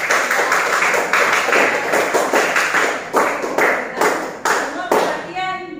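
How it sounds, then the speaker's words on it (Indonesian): Students in a classroom clap for a group in a rhythmic, patterned burst of many hands, with sharp repeated beats that end abruptly. "tepuk tangan dulu untuk kelompok"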